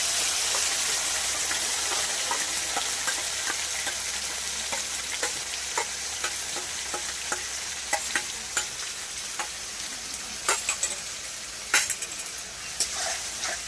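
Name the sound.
spice paste frying in a pan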